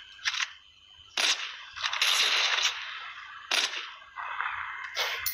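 Sniper rifle shots in a Call of Duty Mobile 1v1 duel ring out as several sharp, loud bursts spread across the moment, each cracking and then tailing off with a brief reverberant decay.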